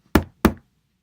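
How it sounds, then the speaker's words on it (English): Two firm knocks on a wooden door, close and distinct, spaced evenly apart, followed by silence. "came some time afterwards and knocked at the door"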